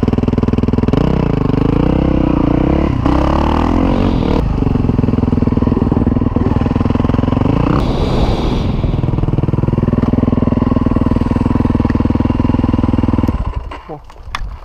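A motorcycle engine runs in gear close by with a loud, throbbing note that rises and falls through several revs, then cuts off abruptly near the end, leaving a few clattering noises.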